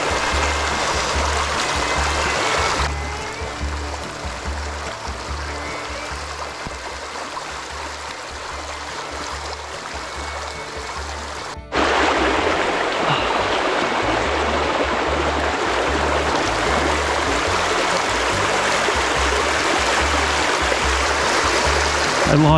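Rapids on the Lady Evelyn River in Temagami send water rippling over rocks in a steady, close, full rush that swells louder partway through, with no voices.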